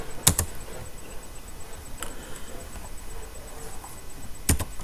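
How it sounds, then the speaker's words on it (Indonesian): Code being typed on a computer keyboard: sparse, scattered key clicks with a few sharper taps near the start and end, close and moderately quiet against a low room hiss, with no talk. "Yang berikut yaitu saya akan ketik var dengan obj"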